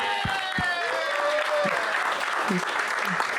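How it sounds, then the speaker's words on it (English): A comedy-show audience gives a round of applause for the sponsors, steady clapping throughout with brief vocal whoops and voices over it. "Give them a round of applause"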